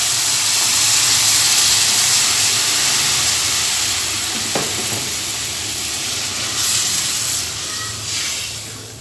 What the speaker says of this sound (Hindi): और लो मीडियम आंच पे ही इसको भी पकाना है पानी डाल के भी।